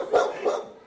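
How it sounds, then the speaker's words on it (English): Dogs bark in a Martinez animal shelter, where homeless pups including pit bull breeds vie for attention; two close, fairly loud bark-like bursts come in quick succession within under a second. "Dogs without homes barking for attention."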